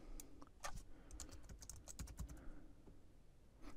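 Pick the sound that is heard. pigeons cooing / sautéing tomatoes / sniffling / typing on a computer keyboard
typing on a computer keyboard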